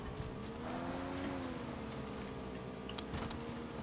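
A vehicle engine hums steadily while driving in the battle royale video game PUBG: Battlegrounds, a continuous mid-loud drone with a slight pitch rise and fall and a few faint ticks near the end.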